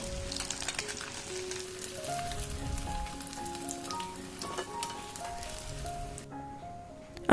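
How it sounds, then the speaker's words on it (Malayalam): Egg pieces frying in hot oil in a pan, a steady soft sizzle and crackle with scattered pops, close and fairly quiet, with light background music tones. "മുഴുവനും ഇതുപോലെ ഫ്രൈ ചെയ്തെടുക്കാം."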